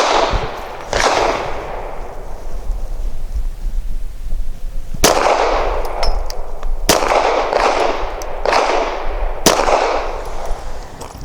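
Walther Q4 SF pistol firing PPU Subsonic 158-grain full metal jacket rounds, with two sharp reports at the start, then a slower series of five loud, evenly spaced shots with brief ringing between them.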